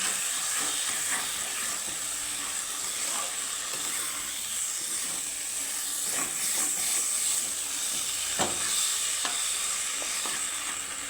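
Bengali vegetable chorchori with tangra fish frying in a pan, producing a loud, continuous hissing sizzle with occasional stirring scrapes and pops, no talking.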